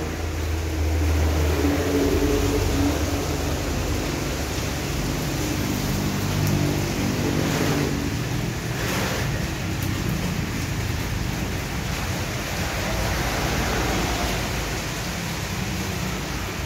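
Steady, continuous rain pours down at a used car warehouse, a broad even hiss that stays loud and unchanging throughout with no voices.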